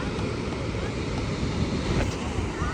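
Niagara Falls thunders as a steady, dense roar heard from the top viewpoint, a continuous broadband wash of falling water with wind buffeting the microphone and no clear voices.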